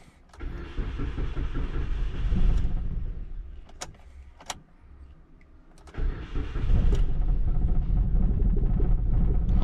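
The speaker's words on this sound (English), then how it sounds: "Because there is air in the system, the engine can shake a little" A Suzuki Splash 1.0 engine cranks and catches after a fuel pump change, running with a loud rumble and slight shake from air in the system, briefly quieting with a few sharp clicks before revving back up steadily.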